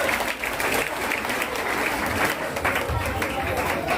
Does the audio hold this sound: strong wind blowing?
no